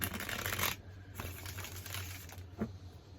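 A quick riffle of a card deck at the start, followed by soft scattered rustles and taps of cards being handled.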